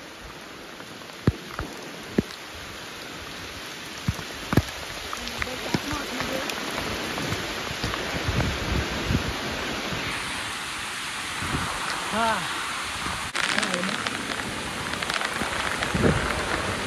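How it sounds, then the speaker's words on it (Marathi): Heavy rain pours down in a dense, constant roar close by, with sharp spatter on nearby surfaces and someone speaking briefly over it. "डेंजर पाऊस आला, डेंजर."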